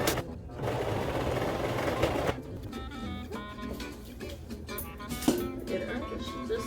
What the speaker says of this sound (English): I'm actually going to have to go a little bit further and sew that down.